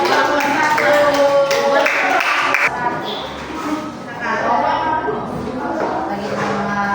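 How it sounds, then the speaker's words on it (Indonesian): A classroom audience applauds a presenting group, with a dense burst of clapping at the start that thins out while voices talk over it. "Tepuk tangan untuk kelompok 1."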